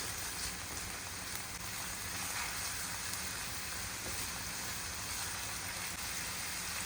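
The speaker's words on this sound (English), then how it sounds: "along with it some crushed garlic, and I'm going to cook it for a while" Crushed garlic cooks in a pan with a soft, continuous sizzling hiss that stays level and unbroken, with no voices over it.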